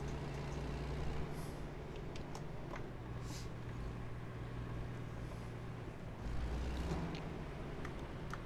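A heavy truck driving in the American Truck Simulator video game, its engine a low steady rumble that stays fairly quiet, with faint hiss and occasional light clicks alone with no voices.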